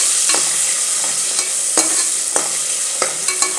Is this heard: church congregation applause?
no